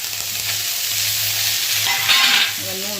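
Potato and eggplant pieces with four or five green chillies fry in fish oil tempered with black cumin. A steady, close sizzle runs throughout, with a spatula scraping and stirring over it.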